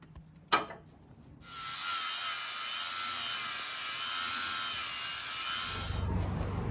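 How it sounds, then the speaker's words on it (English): A Jeep JK brake line on the passenger side is unbolted by a tool: a sharp knock comes first, then a loud, steady, high whirring hiss that holds for about four and a half seconds before stopping. "I just unbolted my brake line here on the passenger side, just to lift it up a bit"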